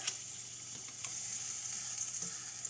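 Butter melts and sizzles in a hot pan before griddle cakes are cooked, a steady quiet crackle and hiss with a few soft pops, no voices.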